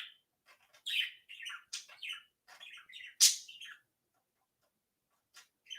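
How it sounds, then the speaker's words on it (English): A pet bird in its cage chirps and tweets in quick, close bursts, with short pauses between clusters of notes and a lone call near the end. "I'm so sorry about my silly bird"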